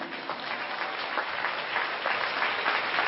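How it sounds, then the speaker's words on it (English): A sustained round of applause from a large audience at a children's performance, many hands clapping continuously, somewhat muffled and distant. "I think our children deserve another round of applause"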